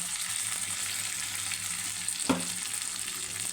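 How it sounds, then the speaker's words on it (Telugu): Green chilli, ginger, curry leaves and dry red chillies sizzle steadily in a hot tempering for curd rice, a continuous close hiss with a single sharp utensil knock near the end. "తాలింపు అయితే మంచిగా వేగిందండి"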